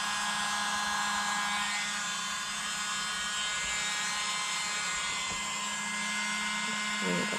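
A tiny electric air blower, smaller than a hairdryer, whirs steadily at close range as it pushes paint across a canvas for a Dutch-pour butterfly painting, a constant high hum throughout.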